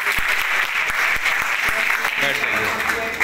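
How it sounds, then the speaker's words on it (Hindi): Schoolchildren clap loudly together at a school safety programme on protection from cold waves, a dense burst of applause with a few sharper claps and some voices underneath. "इनके लिए जोरदार ताली बजा दी"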